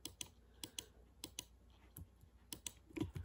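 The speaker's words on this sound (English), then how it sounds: "don't mind my mouse clicking, I know it's loud" A cheap, loud computer mouse clicks during a Bed Wars game, with sharp, irregular close clicks scattered in quick clusters over a quiet background and no speech.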